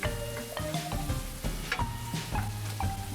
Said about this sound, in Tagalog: Unahin lang natin igisa ang hiniwang bawang na ilang segundo at pagkatapos ilagay na natin ang hiniwang sibuyas at igisa ito hanggang lumambot